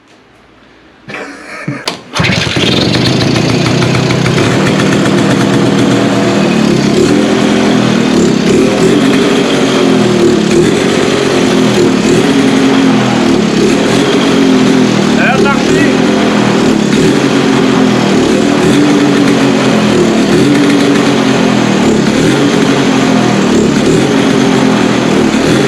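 An old engine left stored in a barn for 20 years, leaking, catches after a brief sputter and then runs steadily and loudly at a constant idle, close by.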